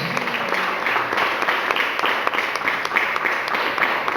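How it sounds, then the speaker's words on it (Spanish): Church congregation applauding, a steady wash of many hands clapping at moderate level, even and sustained without voices on top. "¿Cuántos le dan un aplauso al Señor?"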